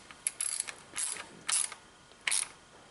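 Short bursts of ratchet clicking from a hand ratchet tightening an ignition coil retaining bolt on a Ford Edge 3.5L, four quick separate runs, close up and fairly quiet with no talking.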